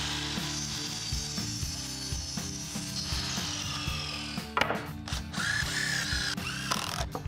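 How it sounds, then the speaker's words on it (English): A power saw makes a 45-degree miter cut through pallet lumber, with a running motor whine, then a sharp bite and rasp into the wood partway through, loud and close without talking. "So a 45-degree miter cut."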